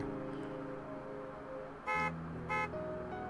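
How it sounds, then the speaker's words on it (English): Two short bursts of car horns honk from behind in a video-game scene (Narcissu), loud and close over a steady background music bed, the first blast longer than the second. "From behind came the sound of car horns blaring at us as we suddenly pulled into the lane."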